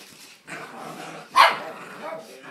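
A dog named Sadie lets out one sharp, loud bark in the middle of a scuffling chase, with lower rustling and yips around it.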